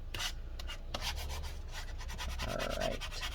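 Adhesive being scraped off a 15-inch Retina MacBook Pro A1398 (Mid 2017) battery after soaking with rubbing alcohol; steady close-up rubbing and scraping strokes with a few sharper scratches, no voices.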